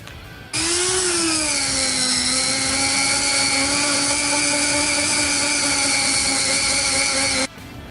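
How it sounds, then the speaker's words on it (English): A Dremel rotary tool with a sanding disc grinds down a plastic RC motor mount. It gives a loud, steady, high-pitched whine lasting about seven seconds, with a brief rise at the start and a clean stop, and no talking. "The tool we're going to use to be cutting this or grinding this a little bit down is this Dremel with the sanding disc on it"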